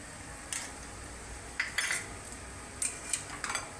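A spoon stirs spices into fajita chicken pasta in a pan: several sharp metallic scrapes and clinks come in small clusters against a low, steady background hiss, close and moderately loud with no voices.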